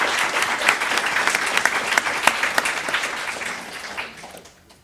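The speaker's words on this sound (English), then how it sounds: "a round of applause for our speakers" An audience at an ocean science and arts event applauds its speakers: dense clapping near the front, holding steady before fading out at the end.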